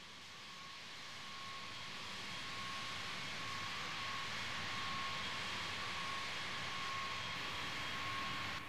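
B-52D bomber jet engines in a Vietnam-era flight sim, idling on the runway at U-Tapao: a steady, loud broadband roar that swells slightly early on and then holds level, with a faint whine running through it and no voices.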